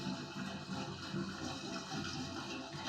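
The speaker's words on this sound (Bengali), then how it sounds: "ছাদের থেকে ওই যে জল পড়ছে যার জন্য ওইখান থেকে আওয়াজ আসছে।" Water falling steadily from a roof, a constant rushing splash at low level with no pauses, heard alone.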